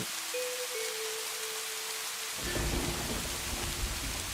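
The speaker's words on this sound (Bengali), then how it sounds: "কি দেখছো, কোথাও পড়ছে বৃষ্টির পানি?" Rain falling in an animated story: a steady hiss of rain with a low tone, then a deep rumble of thunder swells in and rolls on under the downpour.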